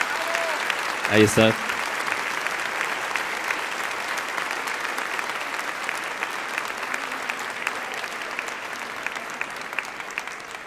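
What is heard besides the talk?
audience applause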